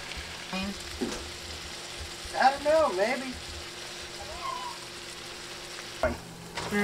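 Meat fries in a pan with a soft, steady sizzle and occasional stirring clatter, while a voice speaks briefly over it.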